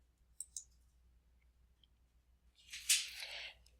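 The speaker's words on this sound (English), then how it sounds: "So I'll enter those and click Login." Two quick, quiet mouse clicks close together on a login button, followed about two seconds later by a brief soft rustle, in an otherwise quiet room.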